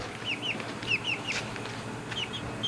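Small chickens in a new coop give short, repeated chirps and clucks over a steady background hum, mid-distance and moderately loud, with no talking.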